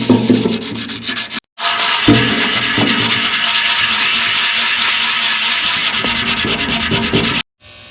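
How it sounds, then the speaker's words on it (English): Warped part from a Ford Econoline Travel Wagon rubbed back and forth on sandpaper laid over a flat drill press table, a loud steady scraping sand that runs continuously with one brief pause early and stops near the end. "We've got a nice flat surface with our drill press table and some sandpaper."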